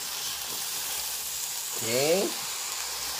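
Rice being stirred together in a frying pan for Jamilkucing Kitchen tomato rice, a steady low sizzle throughout with a brief louder scraping stir near the middle and a short spoken word.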